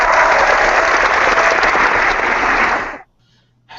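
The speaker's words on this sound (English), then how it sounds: "Can we have a round of applause for that?" Loud, dense applause from a wargaming audience fills about three seconds, then cuts off abruptly into near silence with a faint low hum.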